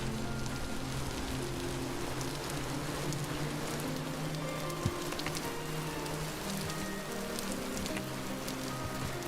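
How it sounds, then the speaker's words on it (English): Steady rain from the weather system in the survival game Vintage Story patters continuously on surfaces with a soft constant hiss, and a faint low hum and drone run underneath for the whole stretch. "The rain the weather system really makes you feel like you're there"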